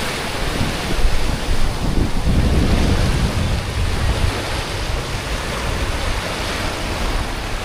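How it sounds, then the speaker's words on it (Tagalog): Strong surf at White Beach, Boracay, washes in as a steady, broad roar of breaking waves, with gusts of wind buffeting the microphone and no talk over it. "Malakas yung alon niya"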